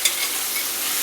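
Egg burji frying in a pan while being stirred, a close, steady sizzle with a brief scrape of the spoon at the start.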